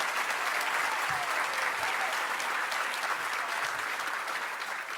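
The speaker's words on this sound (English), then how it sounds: "A round of applause for all of the standing nominees." Steady applause from an awards-ceremony audience honoring police emergency communications nominees, dense and sustained clapping throughout, fading slightly at the end.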